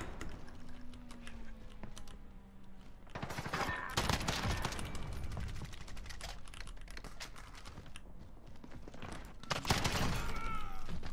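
Golden FAL rifle gunfire in the Call of Duty Modern Warfare video game, rapid bursts of shots in loud clusters mixed with game noise, under close keyboard typing and clicking.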